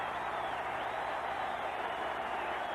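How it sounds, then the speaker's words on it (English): A stadium crowd at the 1978 Wild Card football game between the Eagles and the Falcons keeps up a steady, dense roar of cheering throughout, with no lulls. "this crowd is going crazy"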